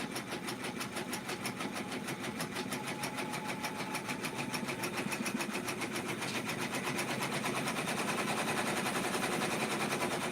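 An embroidery machine stitching out fabric Easter basket ears on sticky stabilizer runs steadily for the whole stretch, a fast even mechanical rattle of needle strokes with a constant motor hum, close and loud, with no talking.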